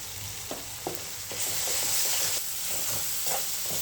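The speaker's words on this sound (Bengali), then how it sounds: "ভালো করে কষিয়ে নিব" Spice paste of chili powder and salt fries in oil, a close, steady sizzle that swells louder partway through, punctuated by rhythmic scraping stirs of a spatula in the pan, no talking.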